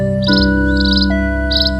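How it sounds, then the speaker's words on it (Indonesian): Sparrows chirping in short bright bursts, three quick twittering calls over a steady droning background hum, close and loud. "Burung pipit adalah nama umum untuk banyak spesies burung kecil."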